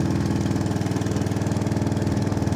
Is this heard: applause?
no